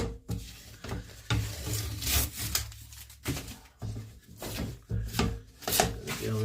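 Close, scratchy rubbing and ripping sounds of blue masking tape being pulled off a wooden scroll saw piece, in repeated strokes with short pauses.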